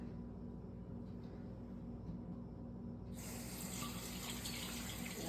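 Running tap water rinsing out a pasta shell in a sink, a steady close hiss that brightens and grows louder partway through as the stream hits the shell.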